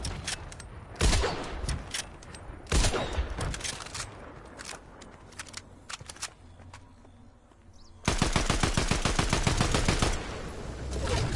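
Gunfire in Fortnite, with scattered single shots early on, then a loud, rapid, evenly spaced burst of automatic fire near the end, up close and with no voices over it.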